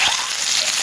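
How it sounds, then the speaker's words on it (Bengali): Eggs sizzle in a pan seasoned with salt and turmeric, giving an even, crackling frying hiss that stays fairly loud and close throughout the short moment. "হালকা একটু ভেজে নেব"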